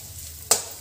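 Raisins drop into hot ghee in a pan, setting off a sudden loud sizzle partway through that stays as a steady frying crackle over a low background hum.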